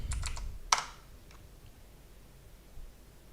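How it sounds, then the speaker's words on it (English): Keys tapped on a computer keyboard: a quick cluster of soft typing clicks, one sharper keystroke, then a couple of faint taps in a quiet room. "Let's type in the re again."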